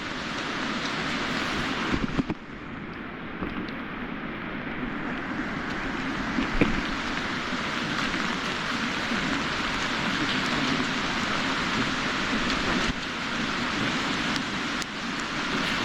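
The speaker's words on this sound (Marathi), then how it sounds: "पाऊस खूप आहे." Heavy continuous rain falling on a farm plot with coconut, jackfruit and dragon fruit plantings, a dense steady roar of downpour that stays loud throughout, with a few brief louder knocks and no speech.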